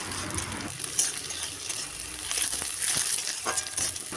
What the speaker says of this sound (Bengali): পেঁয়াজ ভাজা হয়ে গেলে এখন দেব কেটে রাখা কাঁচা টমেটো